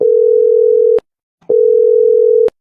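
Two long steady electronic tone pulses from a phone line while a call is placed, each lasting about a second with a short silent gap between them, loud and clean.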